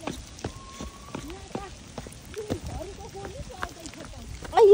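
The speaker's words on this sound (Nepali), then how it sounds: "असिना" Hailstones pelt down outdoors at Tinjure in Nepal, a steady patter of sharp, scattered impacts of varying loudness. Voices talk and exclaim over the clatter, and a louder burst comes at the very end.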